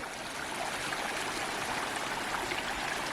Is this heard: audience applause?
no